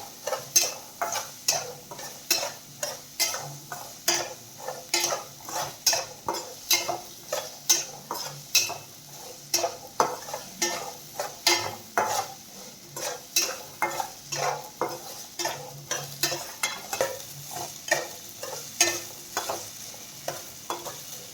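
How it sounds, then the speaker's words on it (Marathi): Green peas sautéed with salt in a pan, a spatula scraping and tapping in a quick, regular rhythm over a soft, quiet sizzle, with no voices. "मटार छान मऊ होईपर्यंत आपल्याला यामध्ये परतून घ्यायचं आहे"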